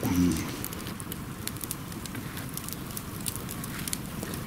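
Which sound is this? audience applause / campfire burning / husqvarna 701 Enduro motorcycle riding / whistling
campfire burning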